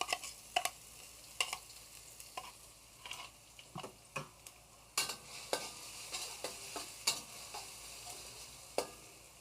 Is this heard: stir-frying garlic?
yes